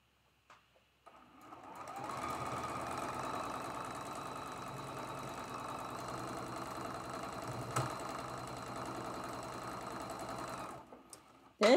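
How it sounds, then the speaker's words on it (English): A sewing machine stitches a quarter-inch seam joining quilt block pieces, a close, steady whirring run of about nine seconds that starts after a few clicks and stops with a brief clatter. "And we're going to sew this seam with the quarter inch seam allowance."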